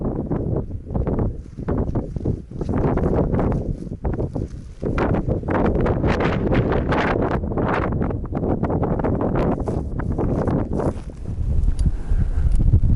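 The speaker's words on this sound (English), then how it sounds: "The wind's pretty bad" Strong wind buffets the microphone at a campsite on a volcano, a continuous loud low roar with gusting swells and no speech.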